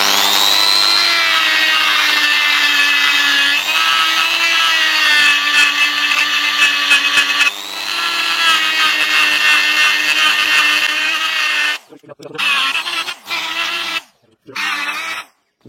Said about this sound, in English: we'll do a little bit of damage with a die grinder